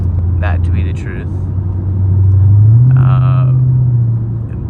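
A Lexus IS F driving at night, its engine a steady low hum with a slow rise in pitch as it gently accelerates, heard from inside the cabin under someone talking.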